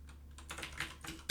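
Fast bursts of keystrokes on a computer keyboard, several quick clicks in short clusters with a sharper tap at the end, close and quiet with nobody talking.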